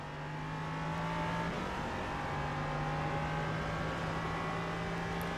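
Engine of an LMP3 prototype race car in the iRacing sim at Oulton Park, a steady sustained drone with a clear held tone that dips and returns, loud and continuous with no talking.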